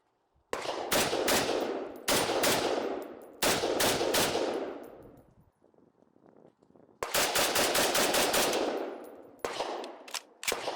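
Cetme L rifle firing in rapid strings of shots, loud and close, with a short quieter pause midway before another long burst and a final few rounds.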